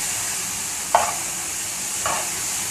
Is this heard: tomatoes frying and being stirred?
yes